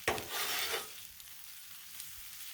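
Rice frying on a Blackstone griddle, a loud hissing burst of sizzle for under a second that quickly fades to a faint, low crackle with a couple of small ticks.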